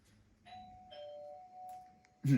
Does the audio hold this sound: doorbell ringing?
yes